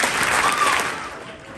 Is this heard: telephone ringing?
no